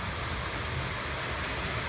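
Water pours steadily out of a lake outlet after a night of snow, a continuous broadband rush like a small waterfall or stream, close and loud throughout with no talking.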